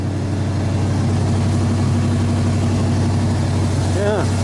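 A 1986 Chevy K-10 truck engine idles steadily with a constant low hum and even pulsing, its RPM dipping slightly as auxiliary lights draw power, heard up close and alone.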